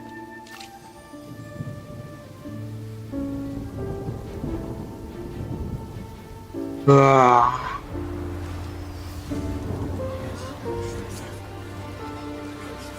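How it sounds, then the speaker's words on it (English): Rain falling in the video game Genshin Impact, a soft steady patter under game music with a rumble of thunder, and a brief high voice exclamation partway through. "It's raining! Oh no, Paimon forgot to bring an umbrella!"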